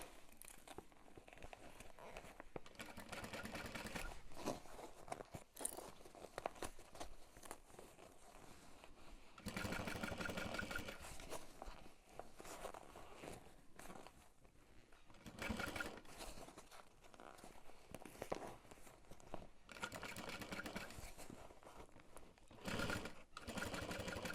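A sewing machine stitches a backpack in long, fast runs of close rattling stitching, pausing briefly now and then between passes, with occasional fabric rustling and handling sounds.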